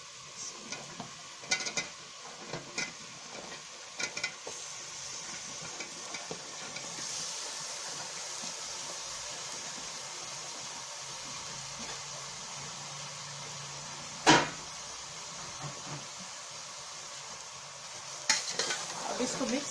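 Cauliflower and potatoes fry in a pan for aloo gobi while being stirred, a steady sizzle underneath with scraping utensil strokes and one sharp clink of metal against the pan partway through; no one speaks.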